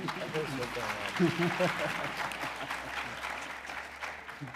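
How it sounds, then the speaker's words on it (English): Audience applause at an agri-entrepreneurship township summit, a dense steady clapping from a crowd that holds throughout, with voices mixed in beneath. "Yeah, you can clap."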